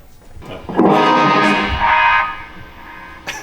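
A distorted electric guitar rings out with effects-heavy sustained chords in an empty school hallway, loud and close, fading toward the end with a brief pluck.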